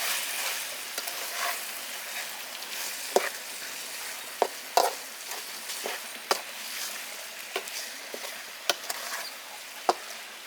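Chicken chukka varuval cooking in a pan with garam masala and salt just added, a steady close sizzle of frying with intermittent sharp scrapes and taps of a spoon stirring, no voices.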